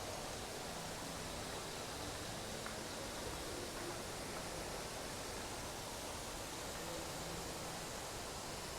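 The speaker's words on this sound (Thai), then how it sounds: "มีน้ำตก เนาะ ตกลงมาให้ได้ดูนะ" Restaurant waterfall pouring down nearby, a steady, dense broadband rush of falling water that holds constant and fairly loud throughout with no talk over it.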